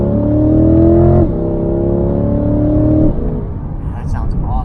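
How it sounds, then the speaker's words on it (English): A 2022 Chevrolet C8 Corvette with a mid-engine layout accelerates hard in second gear, its engine and induction note climbing loudly in pitch through two rising pulls, then easing off to a low rumble. "it's awesome hearing the induction noises that come out of the back of this car"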